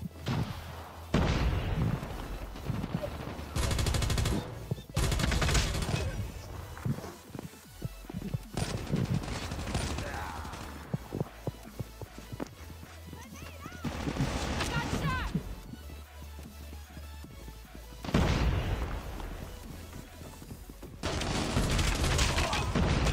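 Bursts of rapid gunfire in Call of Duty Mobile crack and rattle repeatedly over about twenty seconds, some long sustained volleys, others short clusters, mixed with thuds and game noise while players talk throughout.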